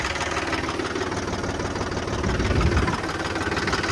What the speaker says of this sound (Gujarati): આજે સવારમાં આવ્યા છે અમે આ ટ્રેક્ટર લઈને આ ખેડકામ કરવા માટે